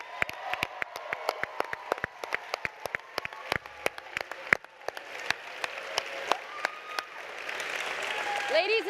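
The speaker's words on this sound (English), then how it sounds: "give a round of applause for all of our winners" An audience at an award ceremony gives the winners a round of applause. Steady, crisp clapping runs throughout and swells into a denser, louder wash near the end.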